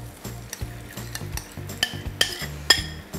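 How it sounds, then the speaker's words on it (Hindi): Yogurt stirred nonstop in a hot pan over a high flame for Kashmiri dum aloo, rhythmic scraping strokes about every half second over a low sizzle, with a few bright metallic clinks of the spoon against the pan. "you have to keep stirring so that the yogurt doesn't split"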